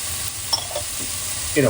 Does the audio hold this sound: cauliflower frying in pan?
yes